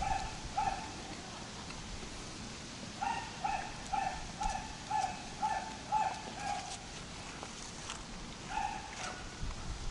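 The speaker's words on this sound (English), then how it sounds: "There's no reason they should let their dog bark." A neighbour's dog at a campground barks in repeated short bursts, a few isolated yaps and then a quick run of barks, heard at a moderate distance over faint outdoor background.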